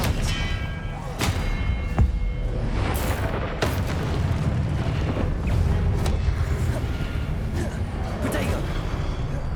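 Expelliarmus spell effects in the video game Hogwarts Legacy: dense magical blasts and thuds with sharp crackling bursts, layered over continuous game rumble and music.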